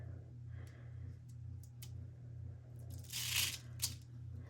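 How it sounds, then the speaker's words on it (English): Adhesive backing is peeled off a paper craft piece, giving a quiet, brief tearing rasp near the close against a low steady hum, preceded by faint ticks and handling sounds. "Let's just see if I can get the backing off with this."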